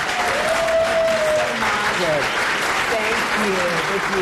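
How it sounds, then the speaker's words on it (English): Warm applause at a US congressional conference greeting the chairwoman of the House Foreign Affairs Committee, a sustained even clapping crowd with some voices and cheers threaded through. "Thank you so much for that warm applause."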